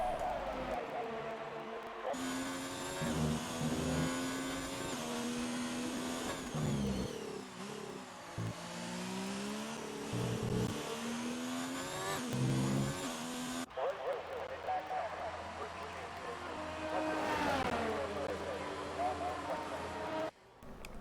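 Formula 1 cars racing in a video game at the British Grand Prix, engines revving and sweeping up and down through gears continuously under a steady commentary voice.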